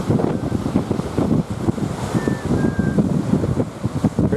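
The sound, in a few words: wind blowing on a clifftop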